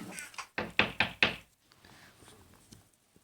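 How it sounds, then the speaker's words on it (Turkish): Zombies knock on a wooden door in a Minecraft-style game, a quick run of four loud hollow knocks followed by fainter scattered thuds. "Bu ses ne ya? Tak tak tak ses geliyor."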